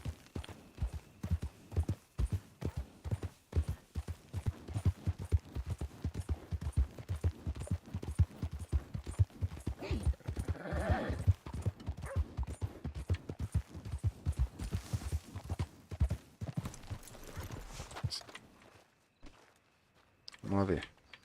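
Horse hooves clip-clop in Red Dead Redemption 2, a fast, steady run of hoofbeats close by for most of the stretch, then slowing and stopping near the end, with someone talking over part of it.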